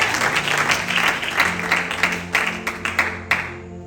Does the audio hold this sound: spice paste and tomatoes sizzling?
no